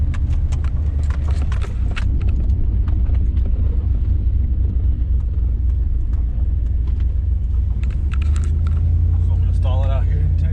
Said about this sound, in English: We're gonna do a light stall and launch on it